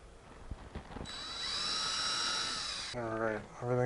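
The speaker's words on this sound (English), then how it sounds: "Drill some pilot holes." Power drill boring pilot holes in wood for a dog accessory organizer, a steady high whine running about two seconds after a few clicks, followed by a voice speaking close by.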